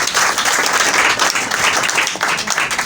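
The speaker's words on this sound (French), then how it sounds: "Applaudissez." A church congregation gives a short burst of dense, steady applause, close and fairly loud throughout.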